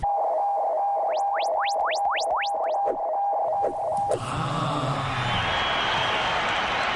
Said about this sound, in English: All day long, there's been these little bursts of crowd noise outside my office window here at Rockefeller Center, right outside my window.